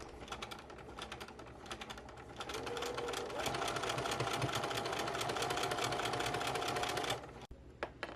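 Close, rapid stitching from a sewing machine shirring fabric with elastic thread, starting lighter then settling into a louder steady run before stopping abruptly near the end.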